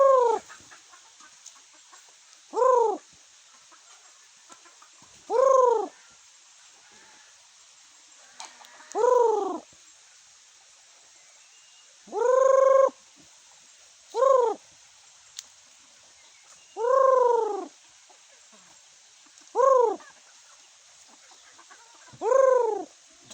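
Red junglefowl (labuyo) rooster in a forest setting, crowing about eight times in a steady series of loud, near calls, each a rising-falling harmonic cry, with faint background noise between them.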